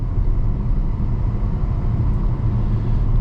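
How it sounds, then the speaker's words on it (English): A 2025 Chevy Trailblazer RS engine pulls up a hill through a hilly neighborhood, giving a steady, loud, low drone that holds high revs alongside road rumble, heard from inside the cabin and uninterrupted throughout. "we'll see how the Trailblazer climbs these hills"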